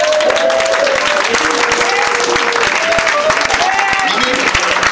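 A church congregation at a deliverance service in Divo claps in rhythm, with sharp hand claps under voices singing and calling out.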